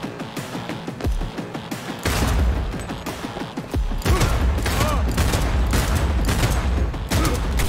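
Gunfire in the video game Cyberpunk 2077: rapid, repeated shots in bursts, loud and close, with heavier booming hits breaking in partway and voices faintly mixed in.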